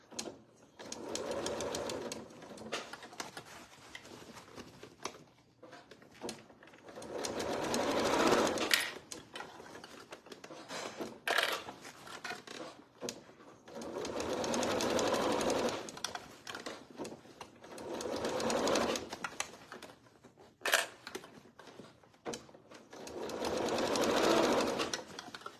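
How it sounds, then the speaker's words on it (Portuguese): A sewing machine stitches a round fabric panettone basket in several separate bursts of fast mechanical whirring, close and clear, with short pauses between runs and no talking. "E vamos costurando."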